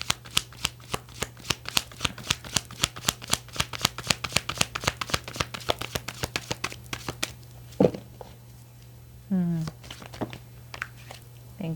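Tarot cards are riffled and shuffled by hand up close in a quick, steady run of crisp flicks for about seven seconds, followed by a few softer card taps and brief speech.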